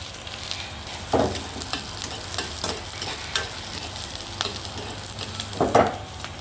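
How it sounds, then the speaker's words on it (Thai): Onions stir-frying in oil in a pan, with a soft continuous sizzle and occasional louder scrapes and clatters as the utensil moves them around. "หอมใหญ่ผัดก่อนนะครับ ผัดหอมใหญ่ให้ใสก่อน"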